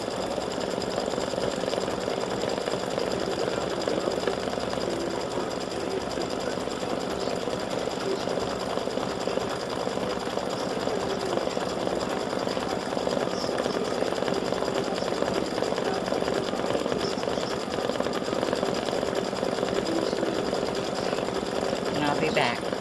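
A sewing machine stitches the straps of flip flop shoes, running as a steady, continuous mechanical whir and rattle throughout with no pauses.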